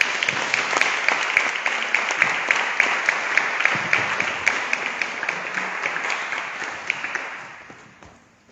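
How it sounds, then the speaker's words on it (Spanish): An audience applauds Javier Cacho at the Gabinete Salvaje 2022 event, a loud, dense burst of many hands clapping that holds steady for several seconds, then fades out at the end. "os pido un gran aplauso porque se ha pegado un gran viaje para estar aquí"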